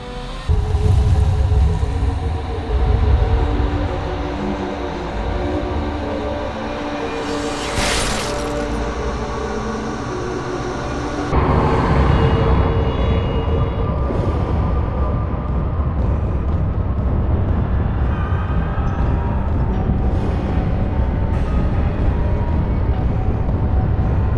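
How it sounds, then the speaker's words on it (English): A train rumbles through a scene in the video game Alice: Madness Returns as a dense, continuous low roar with a sharp crash partway through, followed by a heavier rumbling section. "I must stop this infernal train and the evil force that drives it"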